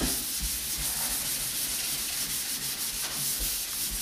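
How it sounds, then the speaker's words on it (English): Steady, close scratchy rubbing of wet sanding across a primed Fiat Spider car body, a continuous gritty hiss with no pauses and no talking. "You kind of want to go in crisscross so you don't miss anything. You go this way and this way. And you can see this primer's sanding pretty decent."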